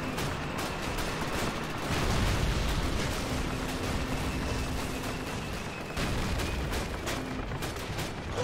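Dense battle din from the Call of Duty: United Offensive video game, with a flak gun blowing up amid continuous booming explosions and rapid gunfire bursts, loud and close throughout with no pauses.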